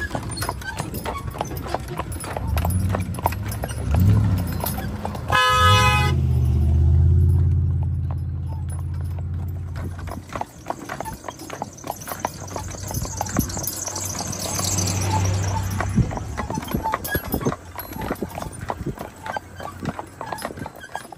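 Percheron gelding draft horses trotting on pavement, hooves clip-clopping in a steady rhythm throughout, with a passing vehicle rumbling by partway through and traffic noise in the background.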